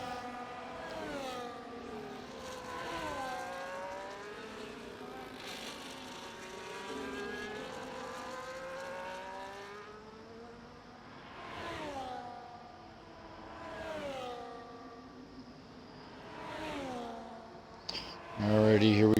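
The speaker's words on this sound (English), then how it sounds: "We're riding on board here with Fitz in the McLaren." McLaren Formula 1 car in a racing video game, onboard view at the China round, its engine note rising and falling through repeated gear changes, heard faintly under a commentator's voice.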